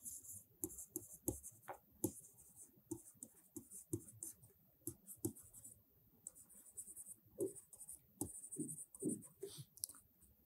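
A pen scratches across paper in irregular short strokes and taps, close and quiet, with brief pauses between bursts of writing.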